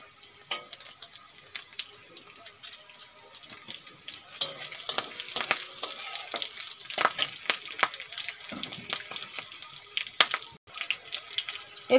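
Chopped ginger and slit green chilies dropped into hot oil in a pan, crackling and sizzling with scattered clinks and sharp knocks against the pan, close by, rising in intensity, with no talking.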